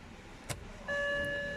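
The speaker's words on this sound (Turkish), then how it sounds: "Kontağımızı açıyoruz." BMW car ignition switched on, giving a brief click followed by a steady electronic tone and hum as the dashboard systems power up, close and fairly quiet.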